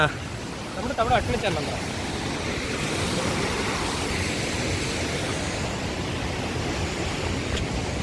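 A waterfall in hilly forest country roars as a steady, broad rushing wash, loud and constant throughout, with a few brief knocks and a faint voice near the start.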